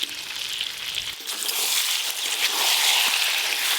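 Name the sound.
chicken with potato and papaya frying in a wok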